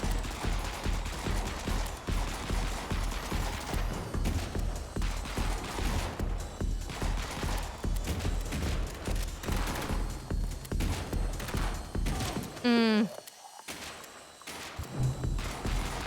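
Pistol gunfire in a video game, rapid repeated shots in a dense, rhythmic volley that carries on for most of the stretch before a short electronic burst and a brief drop-off near the end.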